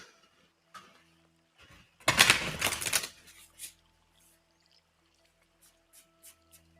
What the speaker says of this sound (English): And I'll finish shuffling cards.